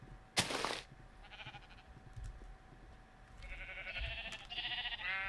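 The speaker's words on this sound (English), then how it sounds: "release the sheepies in the pen. So, 2 sheeps." Sheep bleat in the video game Minecraft Feed the Beast, a loud bleat near the start followed by quieter game sounds and clicks alone with no talk.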